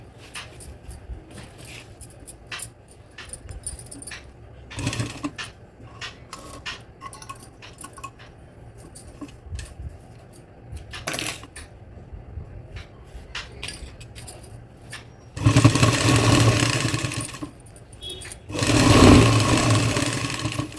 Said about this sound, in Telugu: ఇప్పుడు స్టిచ్ వేస్తున్నాను ఎలాస్టిక్ మీద